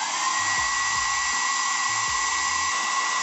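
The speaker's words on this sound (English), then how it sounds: "Now I will increase the temperature with a dryer," A hair dryer blows steadily on a temperature sensor in a home automation setup, a close, continuous whirring roar that stays constant throughout.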